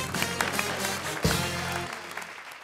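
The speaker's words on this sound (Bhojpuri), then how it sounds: "जोरदार तालियां" A studio audience on a Bhojpuri quiz show claps in a steady burst of applause for a contestant's correct answer, with the sound fading out toward the end.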